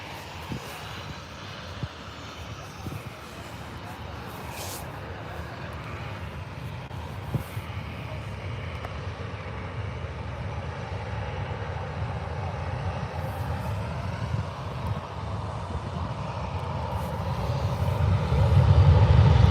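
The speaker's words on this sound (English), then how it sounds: "Another 737 heading out just after this Ryanair as well." A Ryanair Boeing 737 jet takes off at Birmingham airport, a steady broad engine roar heard from a distance that builds gradually and grows loudest toward the end.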